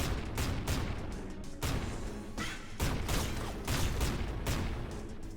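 Rapid automatic Auto Magnum fire in the top-down shooter Nuclear Throne, a dense, continuous barrage of punchy gunshots with crashing impacts, loud and steady with no talking.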